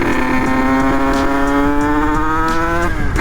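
A motorcycle engine with suspected crankshaft bearing trouble, seeming lean in the midrange, revs up hard and holds, a loud close buzzing drone rising in pitch, then drops off at the very end.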